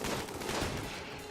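Sustained in-game gunfire from colonists in Rimworld, a dense continuous clatter of shots filling the whole moment at steady loudness with no talk over it.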